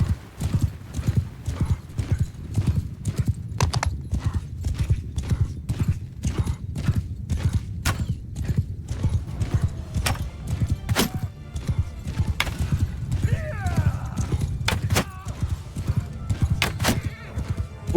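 Horse hooves clip-clop steadily at a gallop in the medieval combat game Mount & Blade 2: Bannerlord, with a brief whinny breaking through the dense rhythmic thudding.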